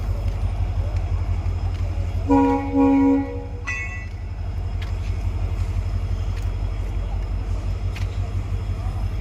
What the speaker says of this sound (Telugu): పోతా ఉంది రైలు అవిడే పోతా ఉంది ఇప్పుడు వచ్చి అవిడే పోతా ఉంది